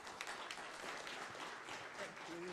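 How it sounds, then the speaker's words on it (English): Audience applause at a game jam event, a fairly faint, steady crowd clapping heard from a distance with a bit of voice mixed in near the end. "So big round of applause for her."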